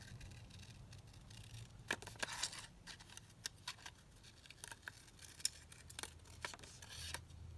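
Scissors cut paper for a junk journal, producing faint, scattered crisp snips with short pauses between them, over quiet room hiss.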